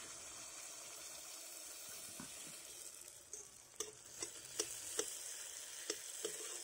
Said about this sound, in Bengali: এইভাবে তেল দিয়ে মা সমস্ত পিঠেগুলো ভেজে নেবে